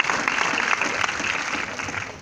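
A cinema audience in a theatre in Maubeuge applauds the film's producer at a premiere, producing a short, continuous wash of crowd clapping at moderate loudness.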